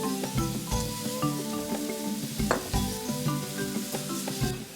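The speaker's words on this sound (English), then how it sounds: "I'm going to saute the onion for about 3 minutes." Onion sautés in olive oil in a pan, a steady close sizzle broken by repeated clicks and scrapes of a utensil stirring it.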